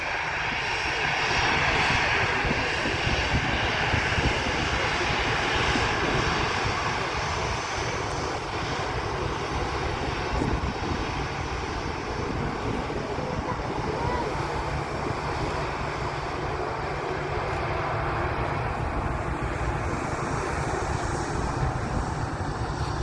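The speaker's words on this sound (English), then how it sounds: "It's a Boeing 767-300, belonging to LATAM Cargo, again on its way from Miami to Amsterdam." A LATAM Cargo Boeing 767-300 passes over the airfield at Manchester Airport, its jet engines producing a loud, steady, broadband roar throughout with wind noise mixed in.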